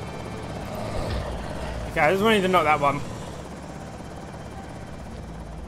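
A helicopter in the video game Project Zomboid gives off a steady, low droning rumble through the whole stretch, while someone speaks briefly over it.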